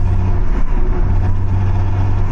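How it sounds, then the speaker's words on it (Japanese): Engine intake noise from a Nissan Skyline R34 bought at auction, a loud, steady low rumble and hum close up with a continuous airy rush over it, with no pauses and no one talking. "でもここ吸気の音だから、 吸気の音ではあるから"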